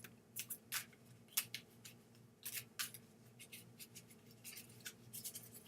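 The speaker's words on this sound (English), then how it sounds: "Tell me when to stop shuffling." Mitzvah cards shuffled by hand, a quiet run of irregular riffling and sliding bursts, close up, alone without talking.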